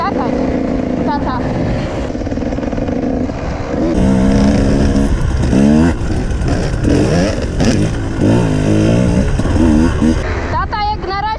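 A 150cc motorcycle being ridden, its engine droning and revving up and down steadily throughout while a person talks over it.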